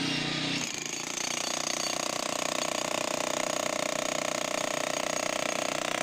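A jackhammer pounds continuously at close range, a loud, dense rattling hammering that starts abruptly after a short lead-in and keeps a steady driving rhythm without pause.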